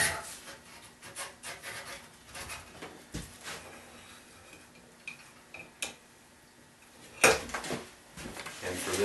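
A plastic scraper pulls cold-snow wax off an alpine ski in repeated rasping strokes, close but fairly quiet, with scattered knocks and a louder scrape near the end.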